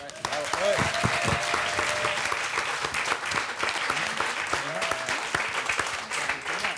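Sustained applause from an audience, dense steady clapping throughout with a voice speaking over it.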